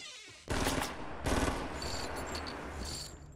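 Gunfire from other players in Fortnite, two loud bursts of rapid automatic shots close together, followed by continuing game noise with faint high whines.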